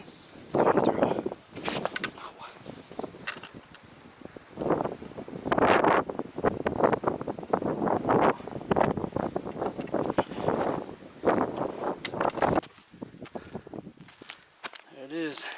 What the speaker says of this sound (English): I can hear the wind coming through